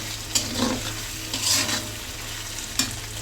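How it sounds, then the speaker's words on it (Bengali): Close, steady sizzling of potatoes frying in oil, with a few stirring scrapes and soft spatters over the continuous hiss. "তেলে আলুটা ভাজা হয়ে গেলে আলুটা ভালো লাগবে"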